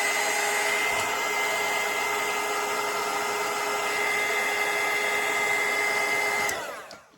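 A hair dryer blows steadily and close over a watercolour painting of a hot air balloon, a constant whirring rush with a brief dip near the start, then it is switched off and winds down at the end.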